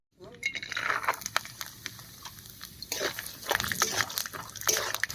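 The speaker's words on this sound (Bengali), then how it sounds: "এবার হাফ কাপ মতো বাদাম এই তেলের মধ্যে ভেজে নেব।" Half a cup of peanuts fry in hot mustard oil in a wok, giving a close, uneven crackle and sputter of popping bursts while a voice talks over the sizzling.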